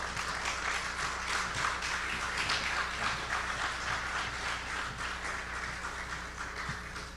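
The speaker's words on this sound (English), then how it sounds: "Ladies and gentlemen, a round of applause." An audience claps at the opening ceremony of the Caribbean Broadcasting Union's 54th annual general assembly, with a steady, fairly faint and distant spread of applause and a low hum beneath it.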